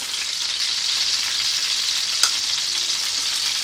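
Semolina roasting in melted ghee for aloe vera halwa gives a steady, close, bright sizzle with one small tick, and no voices.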